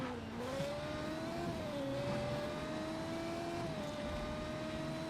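F1 car driving fast in the video game Just Cause 3, a steady high-revving engine whine that rises and holds with slight pitch shifts, continuous and fairly quiet with no talk.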